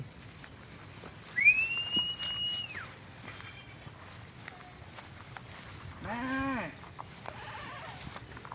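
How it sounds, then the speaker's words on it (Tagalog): A single drawn-out bleat from a goat, then a few seconds later a shorter wavering bleat, both moderately near against a quiet outdoor background. "Tinatawag na ako ng mga kambing ko, mga pare ko."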